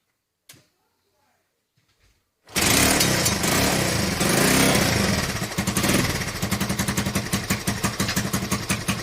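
A Honda XL125S motorcycle engine, carburettors just refitted, starts after a faint voice and near silence, then runs loud and close for several seconds before settling into a rough, pulsing idle.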